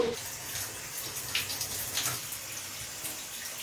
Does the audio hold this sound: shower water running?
yes